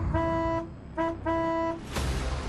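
Vehicle horn honking in three blasts, a longer toot, a short one and another long one, loud and alone, followed by a burst of broadband noise.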